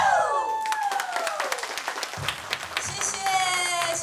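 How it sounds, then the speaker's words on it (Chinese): An audience claps after a dance show at a Tsou tribal weekend market on Alishan, with a quick run of close hand claps under music and a voice speaking over them. "谢谢大家热情的掌声哦！"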